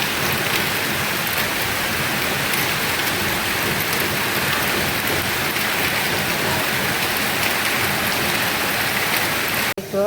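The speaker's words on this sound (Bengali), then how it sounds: "বৃষ্টি হইতেছে অনেক।" Heavy rain pours steadily and loudly, a dense continuous hiss of drops hitting surfaces, with a sudden cut at the very end.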